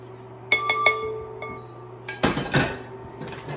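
Choux pastry dough going into a bowl, heard as a few clear glassy clinks and a scraping, clattering burst of utensil against the bowl, close and fairly quiet with no talking.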